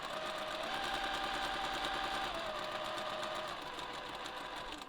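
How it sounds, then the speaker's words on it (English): A sewing machine stitches a seam across pieced 60-degree fabric diamonds. It gives a steady, close mechanical whirr for several seconds, with one brief shift in pitch before easing at the end. "we're going to sew from here, and we're going to stop when we get to the end of that fabric"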